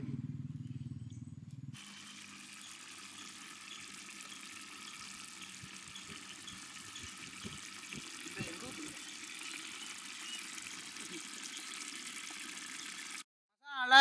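Chicken curry gravy boils in a pot outdoors in village-style cooking, a low, steady bubbling rush lasting over ten seconds with faint speech and small knocks beneath it.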